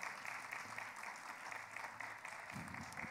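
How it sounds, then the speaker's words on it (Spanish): At a book presentation, the audience applauds themselves and the writer, a steady, moderately faint round of clapping with a few louder claps near the end. "Pido un aplauso muy fuerte para ustedes y para el escritor"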